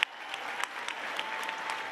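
A live audience in Miami applauds the staff with steady, dense clapping that carries a few sharper individual claps, filling the whole moment.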